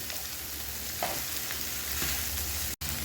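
Yellow, red and green bell peppers being stir-fried in a pan, with a steady sizzle and a few soft scrapes of stirring throughout the short stretch, no voices.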